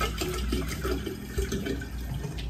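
Distilled water is poured over mung beans in a container to soak for sprouting, making a close, bubbling trickle that shifts in tone as it runs, with no talking.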